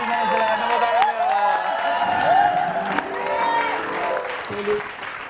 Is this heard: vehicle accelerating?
no